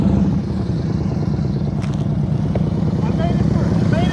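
Motorcycle engine held at low speed during slow-speed riding practice, a loud steady throttled drone close by, with a voice talking over it.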